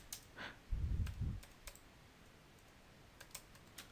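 Computer keyboard typing while entering HTML and JavaScript code: a quick burst of low, soft key thumps followed by a few sparse, faint clicks, close and quiet with no talking.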